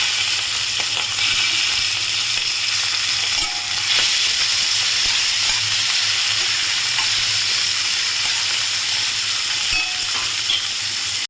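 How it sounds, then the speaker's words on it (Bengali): Shrimp sizzling in hot mustard oil in a pan, a loud, steady close hiss of frying with occasional pops and crackles, no voices. "তেল গরম হয়ে গেছে, চিংড়ি মাছটা দিয়ে দিচ্ছি।"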